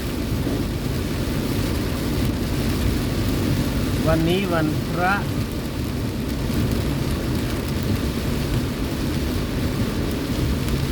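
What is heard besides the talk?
heavy rain with thunder in Udon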